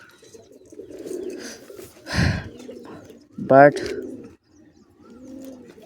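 Pigeons coo softly in a pigeon coop, several low rolling calls spaced across the stretch, with a person briefly speaking between them.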